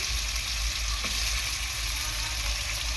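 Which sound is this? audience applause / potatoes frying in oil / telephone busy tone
potatoes frying in oil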